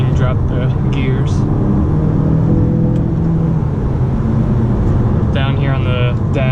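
A 2018-2020 Mazda 6 Grand Touring Reserve engine drones steadily from inside the cabin as gears are dropped, a loud low rumble with a voice speaking briefly over it at the start and end.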